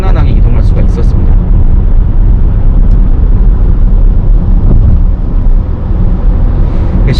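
Steady broadband road and wind rush inside a Chevrolet Traverse large gasoline SUV while driving, a dense continuous hum with faint higher hiss, under someone talking throughout.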